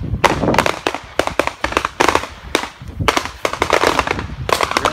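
Handgun shots at an outdoor firearms training range ring out as a rapid, dense string of sharp, loud cracks, several overlapping one another in quick irregular bursts with no talk.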